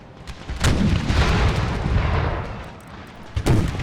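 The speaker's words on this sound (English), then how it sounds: "Cannons switch to canister shot." Cannon artillery from a Napoleonic-era battle in Empire: Total War, modded for Civil War regiments, booms in heavy, overlapping bursts with rumbling decay, a dense barrage followed by a quieter lull and a final sharp report.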